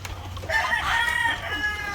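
Chickens on a farm clucking and crowing as they eat, with one rooster's crow standing out loud and close over a steady backdrop of hens.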